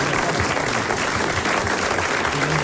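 Studio audience of a French radio show breaking into loud, dense applause that holds at full strength throughout, no speech over it.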